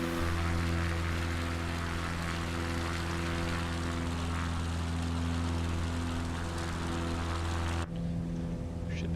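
A propeller airplane engine in a flight simulator game drones steadily in a constant, tonal hum during cruise, then cuts off abruptly near the end, leaving a quieter background.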